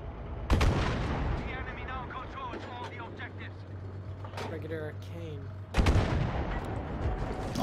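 Tank fire in the Battlefield V shooter game, two heavy booming blasts a few seconds apart, with battle noise and speaking voices in between.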